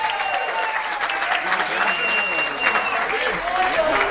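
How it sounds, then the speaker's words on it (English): Guests at a wedding reception at a private residence in Brooklyn, Connecticut applaud together in a steady burst of clapping, with voices and cheers mixed into the crowd noise. "Let's give them a big round of applause."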